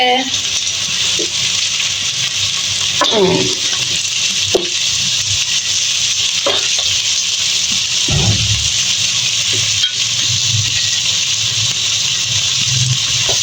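Carrots fry in a pan with a steady broadband hiss and sizzle, broken by a few clattering stirs and scrapes, while a voice talks intermittently over the cooking.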